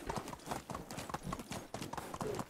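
A horse gallops at full speed in the Medieval Dynasty video game, its hooves beating a quick, steady rhythm of clip-clops that runs on without pause, faint but clear.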